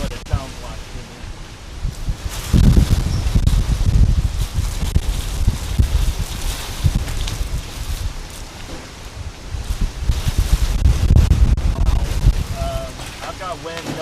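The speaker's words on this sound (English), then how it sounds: "You can hear the whistle of the wind." Strong storm wind gusting and whistling around a car with a window lowered during severe weather in Cresson, Texas, a steady loud roar that swells in gusts, with a voice talking over it at times.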